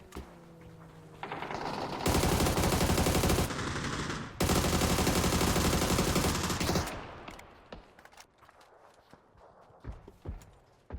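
Sustained bursts of rapid automatic gunfire in a ranked video game match, loud and dense, giving way to scattered single shots and clicks.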